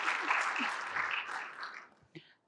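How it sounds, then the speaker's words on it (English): Brief audience applause for a presenter's demos at a tech presentation, a burst of clapping that quickly thins and fades out within about two seconds, ending with a single late clap. "I just want to give Andrea a huge round of applause for all the demos."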